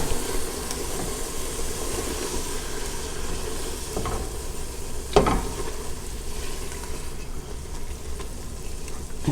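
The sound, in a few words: garlic sizzling in a pot for gumbo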